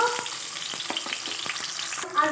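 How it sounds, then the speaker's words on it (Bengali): Tilapia fish sizzles in oil in a kadai, a steady crackling hiss broken by light irregular pops and taps, fairly quiet and close with no talking. "মাছটা দিয়ে দিয়েছি কড়াইয়ের মধ্যে ভাজার জন্য।"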